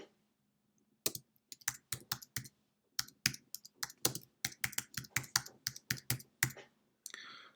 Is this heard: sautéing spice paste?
no